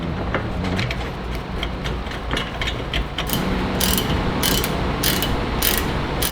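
A ratchet clicks in quick bursts while tightening the brake caliper bolts on a Porsche during a home brake job, close and loud, with sharp rapid pawl clicks in the second half and no talking.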